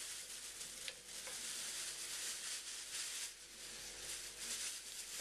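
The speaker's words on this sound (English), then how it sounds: "we're going to fry the bacon" Bacon sizzles in a frying pan, a steady bright crackling hiss with faint pops, fairly quiet and continuous throughout with no talking.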